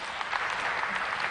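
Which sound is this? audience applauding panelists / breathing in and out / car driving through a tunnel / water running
audience applauding panelists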